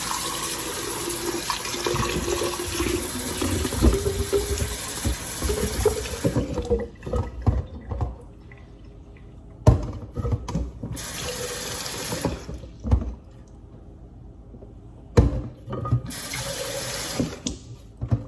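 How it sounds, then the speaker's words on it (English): Tap water runs into a sink or basin to refill a container with room-temperature water in a home garden setting, a steady loud gush that stops and restarts in several short bursts, with no talking. "just fill it up with room temperature water"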